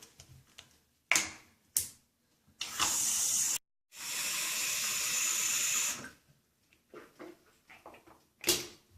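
Water from a hose or tap rushes into a test balloon for a shower pan leak check, two hissing bursts of flow between short clicks and handling knocks, with no talk.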